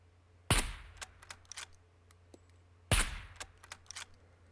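Two sharp, fairly loud .22 rifle shots about two and a half seconds apart in the SCUM video game, each followed by faint clicks and rattles over a low steady hum.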